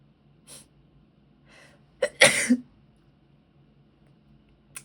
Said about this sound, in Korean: 잠깐만 재채기가 나올랑 말랑해서.